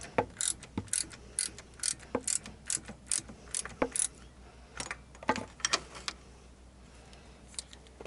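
A ratchet loosening bolts on a Miata's power steering belt assembly, quick bursts of sharp clicking pawl strokes in an uneven rhythm, close and crisp, with brief pauses between turns.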